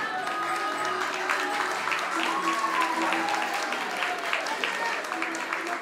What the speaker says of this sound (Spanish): Los padres, el aplauso fuerte para Christopher.